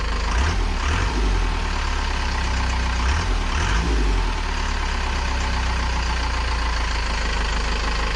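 Step van engine running after a transmission install, a loud, close, steady low rumble with a rougher catch in the first few seconds settling into an even idle.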